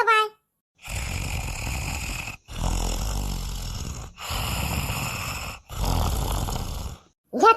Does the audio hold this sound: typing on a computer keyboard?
no